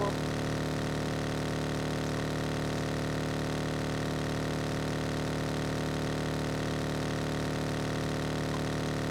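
A steady, unchanging motorbike engine drone in a video game (BGIS) hums evenly throughout, mechanical and constant, with nothing else heard.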